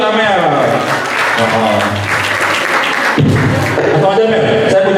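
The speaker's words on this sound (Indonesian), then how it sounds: "Tepuk tangan dulu buat Amel" Clapping for Amel at an Islamic youth program, heard under loud overlapping voices and cheering from a lively crowd.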